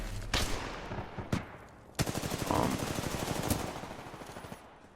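R201 assault rifle fired in Titanfall 2, with a few sharp single shots followed by a rapid automatic burst, loud and close with no talk.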